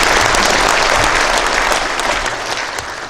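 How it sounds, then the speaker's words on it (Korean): A church congregation at an elders' joint prayer meeting applauds loudly and evenly, a thick, continuous wash of clapping hands lasting a few seconds with no speech over it. "박수 한번 해주세요."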